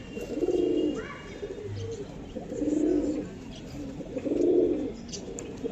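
Domestic fancy pigeons with long feathers coo close by, three rounded, throaty coos repeating about every two seconds, with faint background chirps.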